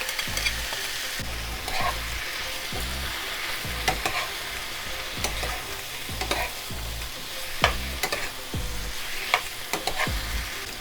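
Shrimp and tender vegetables in a teriyaki stir fry crackle steadily in a hot pan, punctuated by regular scraping and clacking strokes of a spatula stirring, close and fairly loud, no talking.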